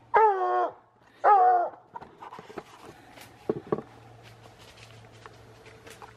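Coon hound baying at a treed raccoon during a night hunt in Wisconsin, two loud drawn-out bawls close by, followed by quieter scattered yips, rustling and footsteps.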